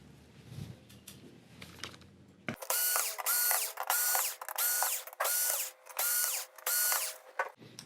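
A power screwdriver removes screws from the main board of a Sony XBR-65X850E TV in six loud, evenly spaced ratcheting bursts, each a second or so long, after a quieter stretch of handling.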